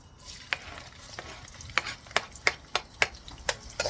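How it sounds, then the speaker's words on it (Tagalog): Garlic and onion fry in hot oil with a soft, steady sizzle, punctuated by a run of crisp spatula scrapes and taps that grow quicker toward the end. "Lagyan natin ng mantika. Lagay natin yung bawang sibuyas."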